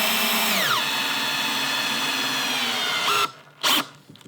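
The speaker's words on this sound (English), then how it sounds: "So this drill will definitely drill any fastener that you need it to." A DeWalt DCD800B/DCD805B cordless drill drives a fastener into wood with a loud sustained motor whine that shifts pitch under load, then stops abruptly, followed by a short burst.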